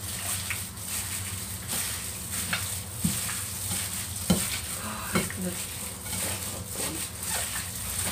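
Chicken with lily flower and dried black fungus being stirred in a hot pan: a steady sizzle with repeated scraping and clinking strokes at an uneven pace, close by and alone.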